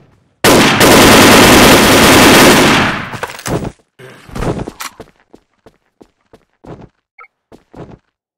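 Video game gunfire: a loud sustained automatic burst for about two and a half seconds, then a ragged string of separate sharp shots thinning out into sparse single cracks, with faint voices underneath.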